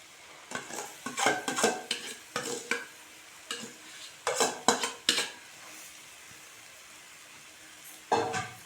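Green chillies roasting in a little oil in a pan, close scraping and clattering of a utensil against the pan in irregular bursts separated by quiet pauses, no talking.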